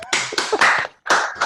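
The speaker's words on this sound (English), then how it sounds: "Everybody clap." Several people clap at once over an online video call, a short burst of crisp claps broken by a brief gap before a second round.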